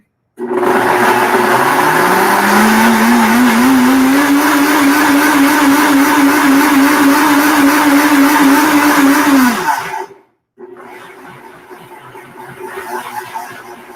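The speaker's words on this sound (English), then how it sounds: "Okay, so I'm going to blend that. It's going to be noisy for a minute." A blender motor whirs loudly and steadily for about ten seconds while pureeing sweet potato, its pitch rising as it spins up, then cuts off, leaving quieter clatter.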